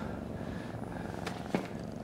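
A cat purrs in a low, steady rumble throughout, broken by a couple of brief clicks and rustles near the end, heard close up with no speech.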